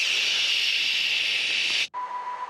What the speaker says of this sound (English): if you look at a dead cell, for instance, you will effectively hear something like a white noise